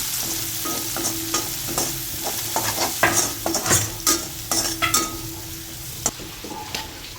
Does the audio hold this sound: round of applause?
no